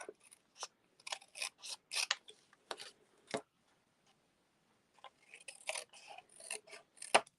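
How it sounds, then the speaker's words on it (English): Scissors cut through cardstock during card making, giving close, crisp snipping bursts in irregular clusters separated by quiet pauses. "we're just going to cut this part off."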